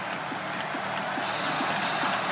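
Loud football stadium crowd at Louisville during overtime, a broad sustained roar that fills the space evenly without breaks, with a faint rhythmic clatter woven through it.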